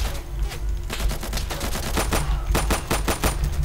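Rapid automatic gunfire in the tactical shooter Insurgency during a cooperative match, close bursts of sharp shots in quick rhythm, with a short lull before a denser volley near the end.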